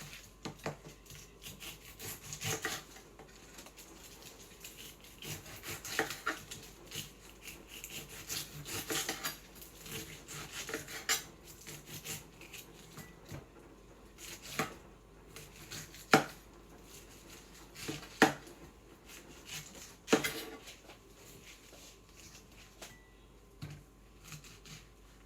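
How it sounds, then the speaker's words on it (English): A knife chops and saws through a whole pineapple on a board, repeated cutting strokes with sharper thuds at intervals and soft scraping between. "I'm just going to quickly cut this pineapple"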